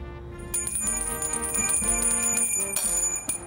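A bell rings out loudly and repeatedly, bright metallic tones layered and sustained, with no talking.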